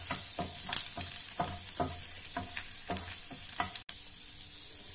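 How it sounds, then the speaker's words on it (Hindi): Garlic fries in oil in a pan with a steady close-up sizzle, broken by repeated stirring scrapes at a regular rhythm, and no voices. "अभी मैं यहाँ पे पहले गार्लिक फ्राई कर दूंगी लहसुन को।"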